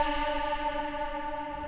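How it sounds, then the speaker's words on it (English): A synthwave track rendered with Valhalla reverb rings out as sustained, layered synth tones washed in lush echo and chorus, steady and fairly loud with no voices. "So it also includes the reverb from Valhalla."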